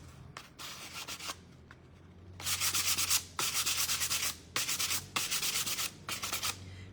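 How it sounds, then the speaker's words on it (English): Scratchy hand sanding on the black-painted lid of a pumpkin lolly jar, rhythmic rasping strokes in bursts, growing louder midway, close and alone without talk. "when you're sanding, because it goes all scratchy"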